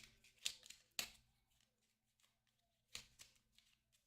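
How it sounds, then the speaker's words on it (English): A deck of playing cards is shuffled during a solo tabletop board game, with a few quiet riffling bursts and sharp snaps separated by pauses, faint and close. "Just shuffle these up."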